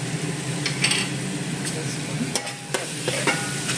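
Chilli powder and coriander are stirred into hot oil with softened onions for an Andhra fish pulusu, a spoon scraping and clinking against the pan over a steady sizzle, close and without talk.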